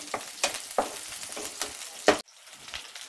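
Chopped onions frying in oil in a village-style kitchen, with a steady sizzle broken by several bursts of stirring scrapes; it is close and moderately loud, there is no talk, and it cuts off abruptly near the end.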